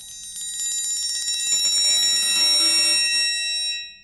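A metal triangle rolled rapidly between two inner sides as a percussion demonstration, producing a bright shimmering ring that swells louder midway, sustains steadily, then fades near the end; no voices.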